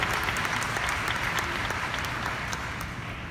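A large conference crowd claps steadily, a dense continuous patter of many hands that stays loud throughout and eases only slightly toward the end.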